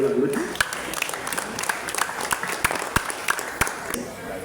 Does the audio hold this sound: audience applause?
yes